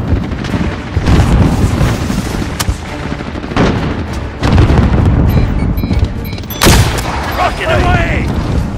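Call of Duty: Modern Warfare combat with a rocket launch and loud booming explosions amid gunfire, dense and close, with a game voice calling out briefly.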